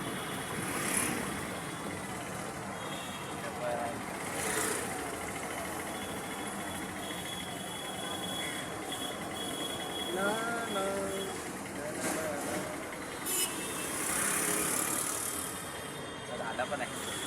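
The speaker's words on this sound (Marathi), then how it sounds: "रिक्षात बसलोय" An auto rickshaw carries passengers through town on a shopping trip. Its engine runs as a continuous, even rumble for the whole ride, with faint voices and occasional traffic sounds mixed in.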